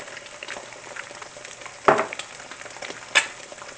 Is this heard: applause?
no